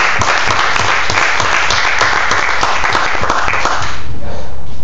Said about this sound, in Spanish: Denle un aplauso al Cristo de la gloria